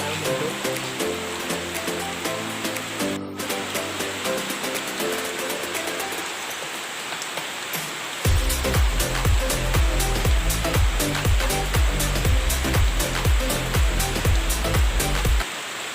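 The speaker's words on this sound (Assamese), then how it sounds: "আমাৰ ইয়াত বহুত পানী পৰি আছে কাৰণে মোৰ ভইচটো হয়তো ভালদৰে শুনিব পৰা নাই।" Heavy rain falling, a dense loud steady roar of water that grows fuller partway through, with occasional tapping and a rhythmic backing underneath.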